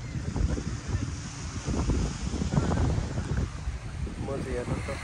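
Strong wind buffets the microphone outdoors at a busy tourist spot, a steady low rumbling roar with gusty surges and faint voices and activity in the background.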